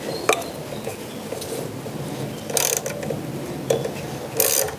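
Ratchet turning a 6mm bolt on a Honda ST1300 motorcycle wheel during a tire change, heard as a few short metallic clicking bursts spaced apart over a low background rumble, close by.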